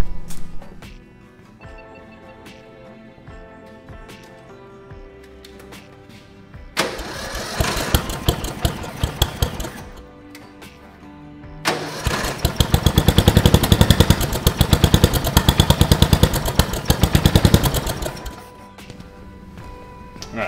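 A lawn tractor with a new battery, fresh fuel and new spark plug cranks and fires up, its small engine running in two loud bursts with a quieter pause between, no talk over it.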